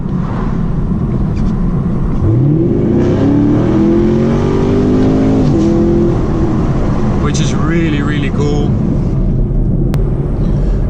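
A deep, throaty V8 engine of a 2018 Chevrolet Camaro SS revs and rumbles steadily, rising in pitch as it accelerates, with someone talking over it.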